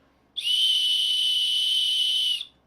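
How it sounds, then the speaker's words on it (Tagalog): One loud, shrill blast from a keychain emergency whistle holds a steady piercing tone for about two seconds, then cuts off. "ito yung whistle. So, in case na mag-ala Titanic ka"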